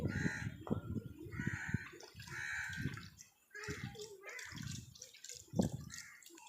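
A stone chutney grinder is washed down with water at home, with splashing and scrubbing in uneven bursts close by and birds calling faintly behind.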